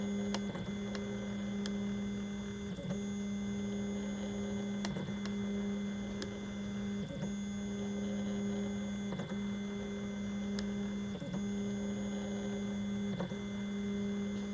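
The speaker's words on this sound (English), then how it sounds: "Sorry that we're still printing using the white sample." An EasyThreeD K1 3D printer printing with white filament gives off a steady tonal motor hum. Faint ticks and brief dips in pitch recur every couple of seconds, and no voices are heard.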